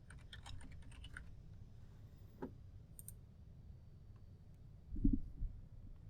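Someone types on a computer keyboard to search for currencies in accounting software: quick quiet bursts of key clicks at first, then sparse taps and a soft thump near the end.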